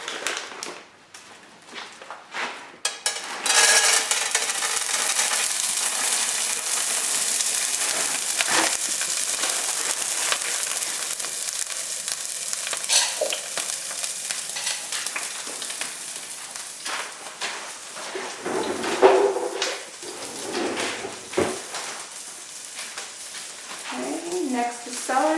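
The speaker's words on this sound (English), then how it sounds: "We're just going to sizzle a little bit because there's a little water." Steady loud sizzling of vegetables frying in olive oil in a hot pan, continuous hiss with occasional crackles and stirring noises, close up.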